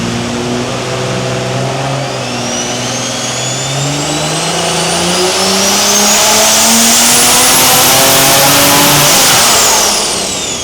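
A BMW X3 M Competition engine roars on a dyno pull, loud and close, with pitch climbing steadily through the gears to a high whine at the peak before easing off.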